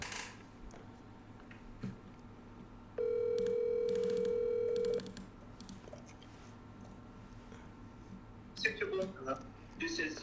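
A phone gives a steady two-second dial or ring tone, preceded and followed by faint keypad beeps and clicks, with people talking quietly around it in an office setting.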